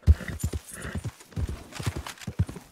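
A horse in Red Dead Redemption 2 clip-clops close by in a quick, uneven run of hoof strikes, with a short neigh mixed in among the steps.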